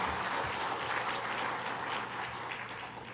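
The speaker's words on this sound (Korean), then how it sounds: "박수 한번 합시다." A church congregation applauding at a pastor's installation ceremony, a broad, even roar of many hands clapping in a large room, sustained and gradually easing slightly toward the end.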